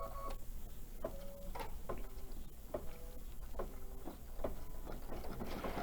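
An embroidery machine stitching out a design runs with a steady rhythmic clatter, regular needle strikes and whirring motor tones repeating about every half second, close and even.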